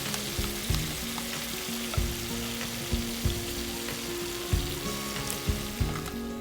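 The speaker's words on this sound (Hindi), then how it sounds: "क्रिस्पी होने तक बस उसको फ्राई कर लें। इस तरह उलट पलट करके उसको तल लें।" Beef sizzling steadily in a pan as it crisps, with repeated scraping and stirring knocks as the pieces are turned over, close and continuous.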